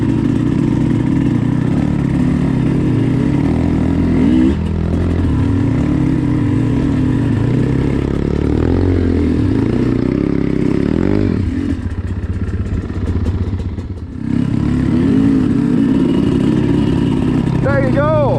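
A Thumpstar dirt bike engine runs loud and close, holding a steady buzzing drone with small rises and dips in revs, and a voice calls out over it.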